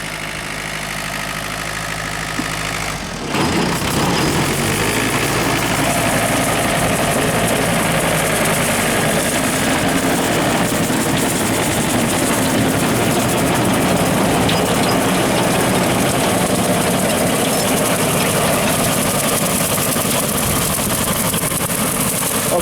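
A tractor pulling a Woods 15-foot brush hog cuts golf course grass, its engine a steady, loud drone with a low mechanical hum and a brief dip near the start, running without talk.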